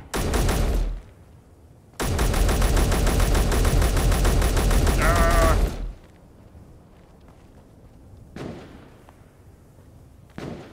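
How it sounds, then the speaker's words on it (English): Rapid-fire rifles shooting in a video game, two long loud bursts of fast automatic fire separated by a pause, followed by fainter scattered shots and thuds. "we're using these rapid fire rifles"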